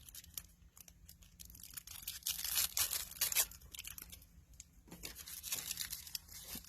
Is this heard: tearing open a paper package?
yes